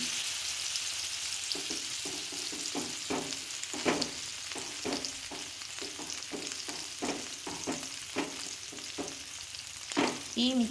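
Masala-coated pink perch (kilimeen) pieces frying in hot oil give a steady close sizzle, broken by repeated bursts of crackling as pieces are laid in and moved, with a sharp spatter near the end.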